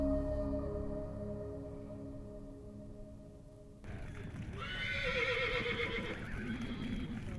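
Wild horses, stallions and mares, during a roundup near Swasey, loaded for hauling to holding: a low steady rumble, then a sudden shift to loud high whinnies and rising, wavering neighs over shuffling movement.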